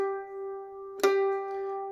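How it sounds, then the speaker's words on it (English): A single clear, bell-like mandolin harmonic, cleanly played, rings out and sustains smoothly, heard alone with a soft pluck in the middle. "So this is what a harmonic should sound like."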